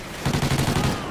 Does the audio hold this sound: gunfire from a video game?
yes